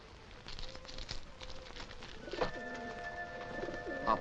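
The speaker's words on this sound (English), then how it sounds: "This is the pigeon I gave to Monte Cristo." A pigeon coos in short low calls during a Count of Monte Cristo adventure scene, set against steady background noise with some patter. The calls come mostly in the second half and sound moderately close.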